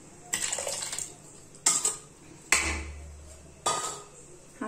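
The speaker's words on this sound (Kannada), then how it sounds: "ಈಗ ಇದನ್ನು ಬೇಳೆಗೆ ಹಾಕ್ತೀನಿ." Cooked ridge gourd is tipped into dal in four separate bursts of clanking utensil against pot, each with a wet splash and trailing scrape, close and moderately quiet.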